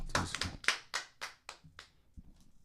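A few people clapping on a morning show, about eight sharp separate claps in a loose rhythm that thin out and fade, close and fairly quiet.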